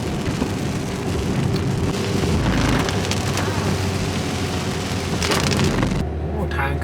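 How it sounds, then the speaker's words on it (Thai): Steady rain falls on Doi Inthanon mountain in northern Thailand during the rainy season, a dense continuous hiss close by, with people speaking underneath before it drops away near the end. "มาพร้อมกับความชุ่มฉ่ำของฝนตกอีกแล้ว"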